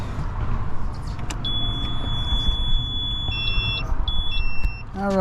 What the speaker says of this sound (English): you can hear that alarm. That's the change the oil alarm